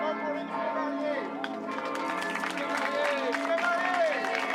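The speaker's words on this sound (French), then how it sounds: "vous pouvez vous adresser à faire des vivas et des applaudissements pour les nouveaux mariés." Wedding guests at a historical French royal-themed wedding banquet cheer and applaud the newlyweds, with clapping and raised voices alongside ringing bells, the crowd swelling in the second half.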